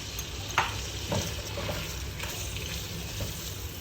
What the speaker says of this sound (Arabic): ندير لكم البصله والثومه